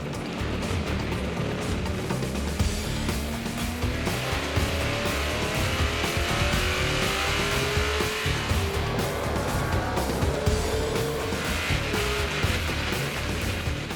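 Race cars roar off at the green flag for the start of a NASCAR-style race, engines loud and continuous, with rising engine pitches sweeping past as the field accelerates out of the gate toward a chicane.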